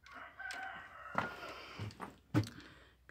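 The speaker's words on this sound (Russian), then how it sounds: "Петухи у нас у соседей кричат." Neighbours' roosters crow at dawn from a short distance, several overlapping calls rising and falling one after another, fairly faint against a quiet morning.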